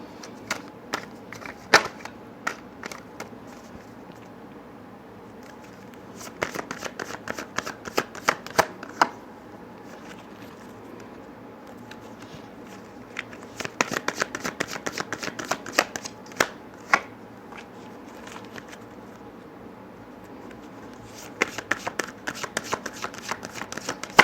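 Crisp riffling bursts of tarot cards being shuffled, repeated in several clusters with quiet handling in between, close and fairly clear.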